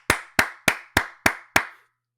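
Six crisp hand claps land at an even, steady rhythm in a quiet podcast room, each sharp and close, then silence follows.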